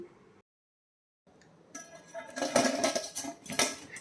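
Crisp fried wheat-flour snacks crunch and crackle in several sharp, close bursts after a brief silence.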